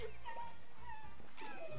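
A woman imitates a puppy's whimper with her voice, giving short, high, whiny yips and whines that rise and fall over a low hum, brief and fairly close.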